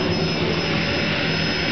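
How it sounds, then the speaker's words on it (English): A very loud household vacuum cleaner runs close by, a steady, dense roar with a jet-like whine that holds without pause. "That's the loudest vacuum cleaner I've ever heard in my life."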